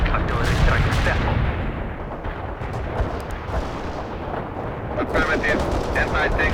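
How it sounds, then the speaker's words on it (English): An artillery barrage strike in the video game World in Conflict produces dense, continuous rumbling explosions and crackling impacts, loud and layered throughout. "Launching a barrage. Artillery strike successful."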